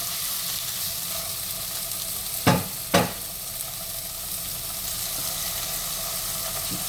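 Skinless chicken pieces fry in a pan for turmeric chicken basmati rice, giving a steady close sizzle throughout, broken by two brief clatters of stirring.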